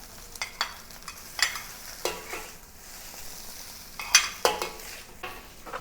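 Salted egg fried rice being stir-fried with egg whites in a pan, with soft background sizzling broken by a series of sharp scraping and clanking strokes of a utensil against the pan, close and fairly quiet.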